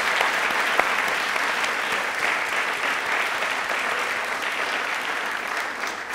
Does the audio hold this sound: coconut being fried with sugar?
no